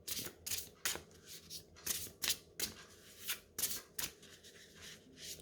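An oracle card deck is cut and handled at close range, giving a quiet run of crisp, irregular riffling and sliding card sounds with no speech.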